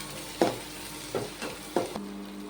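Onions, ginger, garlic and green chillies frying for an egg masala curry are stirred in three distinct scraping sweeps over a soft background sizzle, close up with no speech.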